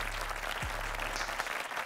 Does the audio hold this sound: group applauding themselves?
yes